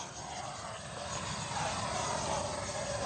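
An FMS Avanti S 90mm electric ducted-fan RC jet flying hard on the throttle, a continuous loud roaring whoosh that swells slightly as it passes, with no talk over it.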